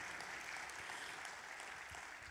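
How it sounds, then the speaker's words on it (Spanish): Church congregation applause welcoming first-time visitors, a quiet, distant wash of steady clapping that fills the room evenly without voices. "Le damos un fuerte aplauso si estás aquí con nosotros por primera vez."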